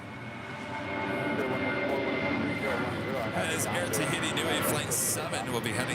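A Boeing 787-9 Dreamliner departs LAX with a steady, broad jet engine roar that swells and holds loud across the whole stretch, under ongoing talk.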